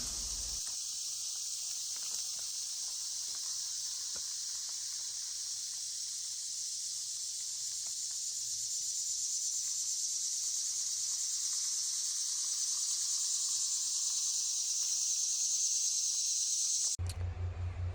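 Forest at night in Tennessee with a steady high-pitched chorus of insects, constant and even throughout, faint low hum beneath and no voices.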